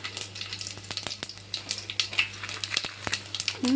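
Crackling, popping sizzle of dried red chillies, cumin and mustard seeds hitting hot oil, with sharp irregular spits and pops over a steady low hum.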